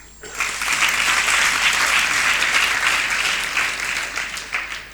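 Sustained applause from an audience at a ceremony honouring public representatives, many hands clapping steadily for several seconds before tapering off.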